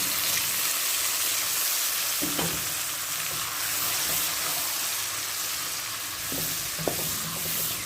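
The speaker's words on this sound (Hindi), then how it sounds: "थोड़ा सा इसमें पानी डालें।" Water added to a spice masala of salt, chili and turmeric frying in a pan for a red kidney bean dish: a steady, loud sizzle and bubbling hiss with a couple of brief stirring scrapes.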